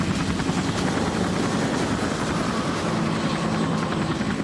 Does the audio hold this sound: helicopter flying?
yes